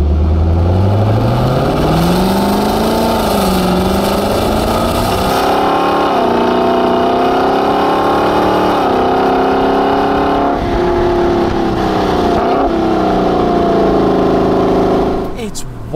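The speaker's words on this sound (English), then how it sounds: "And that V8 is one of the sweetest sounding engines you will ever come across." A Lexus LC500 V8 revs loud and close, its pitch sweeping up and holding through several gear changes over a long continuous run, with a voice faintly under the engine.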